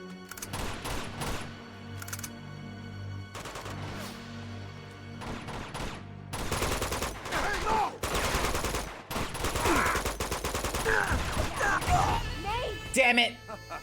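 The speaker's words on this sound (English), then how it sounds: "Get hit with the M32 grenade launcher" Gunfire and heavy bursts from an M32 grenade launcher ring out in the Uncharted 2: Among Thieves video game, with repeated loud shots and blasts in uneven clusters and a player's voice heard between them.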